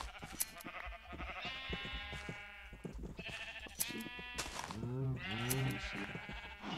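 Sheep in a video game bleat repeatedly, several wavering calls overlapping and fairly close, with some soft clicks between them.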